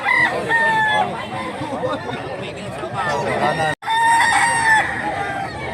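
A young rooster, a stag of white and speckled plumage weighing about two kilos, crows twice in loud, drawn-out calls close by, with steady background chatter and clucking from other fowl between them.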